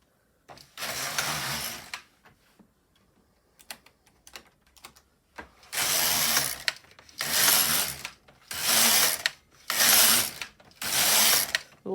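Repeated rattling clatter of a carriage pushed across an LK150 knitting machine, several row passes about a second each with short pauses between them, close and loud, no voices.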